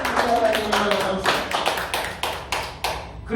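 A church congregation claps together during a Sunday sermon, giving a series of sharp, fairly loud claps in an uneven rhythm that thins out toward the end, with a voice heard briefly at the start.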